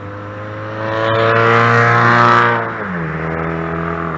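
A group of motorcycles pulls away together, their engines revving loud and close. The droning harmonic roar swells, then drops in pitch as the bikes move off, and the rumble continues steadily behind.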